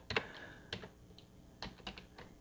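A few quiet computer keyboard keystrokes in small irregular bursts, close but faint, as a command is typed while programming a Raspberry Pi.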